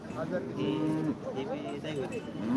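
At a livestock market a cow lets out drawn-out, wavering moos, fairly close, with crowd chatter murmuring underneath.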